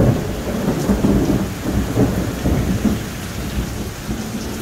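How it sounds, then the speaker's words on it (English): A severe thunderstorm pours heavy rain in a dense, constant hiss, with deep rumbles of thunder rolling underneath, close and loud, with no talking. "this is the worst storm we've had on the trip so far"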